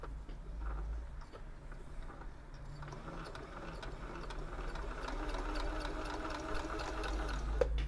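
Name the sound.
old Husqvarna sewing machine sewing a straight stitch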